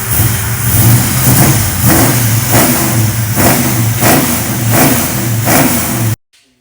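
A 1979 Pontiac Trans Am engine revs loudly in repeated rhythmic bursts over a throaty idle, close by, for about six seconds before cutting off abruptly into silence.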